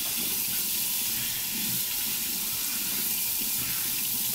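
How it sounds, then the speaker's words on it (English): Hands being washed under a running tap at a home sink during cooking, a steady close hiss of flowing water lasting throughout with no talk. "So I'm gonna wash my hands right quick."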